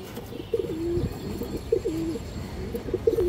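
A male fancy pigeon coos nearby in a loft, making several soft, throaty, rolling coos in quick succession with light background noise and no talk.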